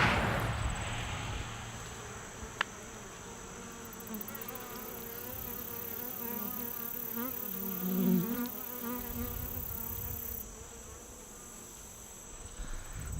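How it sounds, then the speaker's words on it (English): Honey bees buzz steadily around a beehive outdoors, a dense close hum of many insects continuing for several seconds, swelling slightly at moments, with no one talking. "We're getting bees."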